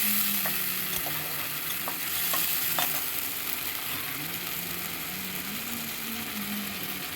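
A spiced paste of ginger, green chili, garlic, tomato and onion fries and sizzles steadily in a pan, with a spoon stirring and scraping against the metal in bursts throughout, close by and without talk.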